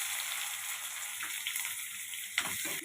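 Dried red chillies, onion and chana dal frying in hot oil for rava and ragi uppittu: a steady close sizzle, with a couple of sharper clinks and splutters near the end.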